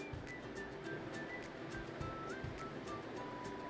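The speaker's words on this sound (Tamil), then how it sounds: "அந்த தண்ணியை ஊற்றிக்கலாம்." Measured water, about 200 grams, is poured into 100 grams of soaked rice for a rice and lentil dish cooked in a pressure cooker, giving a soft, steady, continuous splashing pour that stays faint and close.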